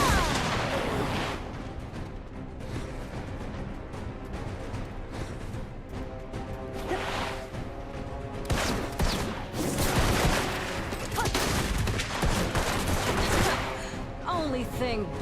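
Gunfire in the video game Black Desert, with dense, continuous bursts of shots and booming blasts layered loudly throughout, alongside game music and effects.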